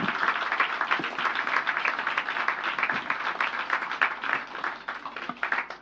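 Rousing audience applause at a Zenith Bank investor presentation, many hands clapping in a dense, continuous patter with a few sharper individual claps standing out, steady for several seconds.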